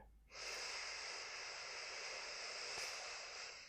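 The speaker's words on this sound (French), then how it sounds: "Je t'invite à prendre une dernière respiration ici, dans cette position fétale." A slow, deep inhalation during a hatha yoga exercise, taken lying in a fetal position, is drawn in steadily for about three seconds, close and alone.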